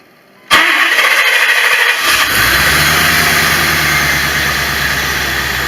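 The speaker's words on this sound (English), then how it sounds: "That actually sounds a whole lot better than the old starter." A new Duralast starter whirs briefly as it cranks a 1989 Corvette roadster's engine, which catches after about two seconds and settles into a loud, steady idle, close by with no voices.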